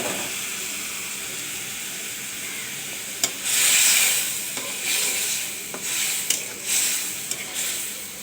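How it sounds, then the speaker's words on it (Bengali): Green and ripe tomatoes sizzle in a frying pan for a tomato and hilsa fish dish, a steady hiss that swells with a few stirring scrapes and clicks, close and fairly loud with no talking. "তারপর এখানে আমি কাঁচা টমেটো ও পাকা টমেটোগুলো দিয়ে দিচ্ছি"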